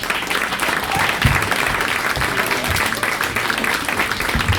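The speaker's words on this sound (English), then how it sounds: "keep the applause going for Danny" Comedy club audience applauding a stand-up comic at Nite Nite, a dense, steady wash of many hands clapping at full volume throughout, with a few louder claps standing out.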